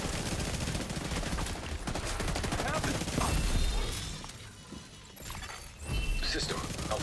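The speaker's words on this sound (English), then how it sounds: "just using it with shotguns" Video game shotgun fire bursts out in rapid, loud, clustered blasts with shattering impacts, continuing through most of the stretch with brief lulls and mechanical clatter.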